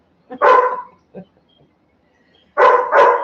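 A dog barks close by indoors, one sharp bark, a small yip, then two quick barks in a row, with near silence in between.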